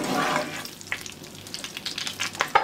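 Butter and vegetable oil sizzle in a rice pot on the stove, a steady close frying hiss with scattered pops and crackles that grow a little sharper toward the end.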